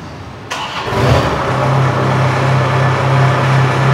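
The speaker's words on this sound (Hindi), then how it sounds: "मैं इसे चालू करके भी दिखाता हूँ, इसके साउंड क्वालिटी भी आपको सुनाऊँगा कि इसका साउंड कैसा आपको मिलने वाला है।" A Kubota Harvest King chain harvester engine cranks and catches about half a second in, then settles into a loud, steady idle drone close by.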